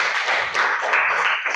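Students clapping their hands together in a classroom, a brief, close burst of steady applause from a small group.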